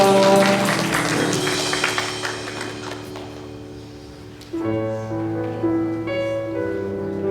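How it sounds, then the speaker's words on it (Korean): A congregation at a Korean Sunday church service claps along over sustained keyboard music; the applause is loud at first, thins out after a few seconds, and the music carries on alone. "하나님께 감사의 박수 올려드리겠습니다."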